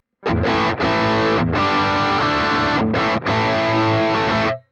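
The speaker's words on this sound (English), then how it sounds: "I want to get a high gain sound from this, so my favourite overdriven amp" Heavily distorted electric guitar through a Boss GX-100's high-gain overdriven amp model, thick tone, chords strummed loud and sustained with a few brief gaps, no talking.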